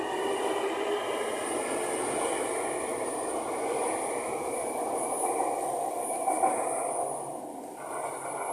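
A Jakarta MRT metro train pulls out of a station toward Bundaran HI, a steady whooshing rumble with a faint high whine, continuous and fairly close, with no voices.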